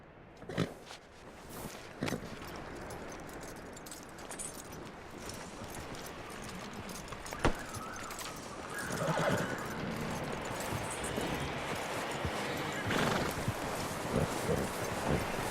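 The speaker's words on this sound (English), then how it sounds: "That looks like a decent horse." A horse in the video game Red Dead Redemption 2 whinnies and its hooves clip-clop over a busy, moderately loud game soundscape, with a few sharp louder hits scattered through and no talk.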